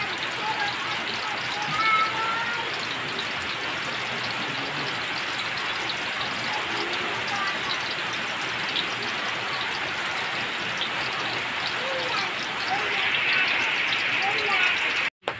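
Heavy rain pours in a constant hissing roar, driven by wind, with faint voices underneath.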